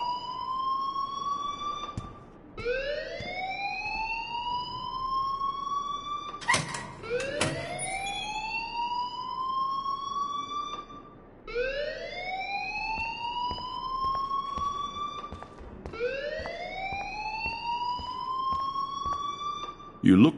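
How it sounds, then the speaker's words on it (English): A repeating electronic alarm from the Life Is Strange video game, rising whoops cycling about every four seconds, loud and steady throughout with a brief clatter partway. "please turn off that alarm since that's your job"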